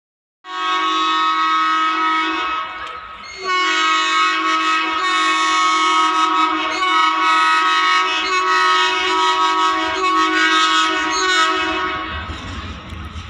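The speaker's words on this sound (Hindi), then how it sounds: "लखनऊ की दिशा से आता हुआ दो लोकोमोटिव लगे हुए हैं" An inaugural special train hauled by two locomotives, one freshly painted, approaches from the Lucknow direction toward Lakhimpur, sounding a loud, sustained multi-tone horn that breaks briefly and resumes over the rumble of the passing train.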